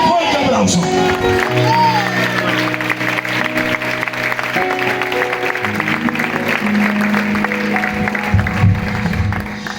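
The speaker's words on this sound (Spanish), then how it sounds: "Dale un fuerte aplauso." A church congregation applauding loudly, clapping spread over a steady crowd roar while sustained music tones and shouts run through it.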